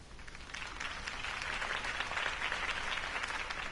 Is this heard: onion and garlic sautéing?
no